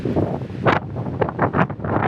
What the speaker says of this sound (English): it's certainly windy, but not as windy as I thought it would be